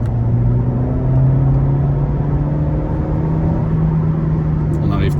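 A Mercedes Classe A 250 in sport mode accelerates on a motorway, its steady engine drone and road rumble filling the cabin continuously, loud and close, with a faint shift near the end.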